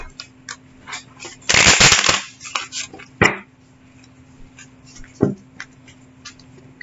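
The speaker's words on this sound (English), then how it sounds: "Why don't I lay my cards down when I shuffle?" A deck of tarot cards is shuffled while held standing up, producing a dense riffling burst followed by a few scattered taps and clicks, close and fairly loud, with no talk.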